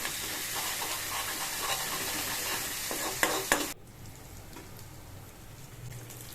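Ginger garlic paste and tomato sizzle loudly while being stirred in a pan, with steady frying hiss and scraping. The sound drops abruptly to a softer, quieter simmer partway through.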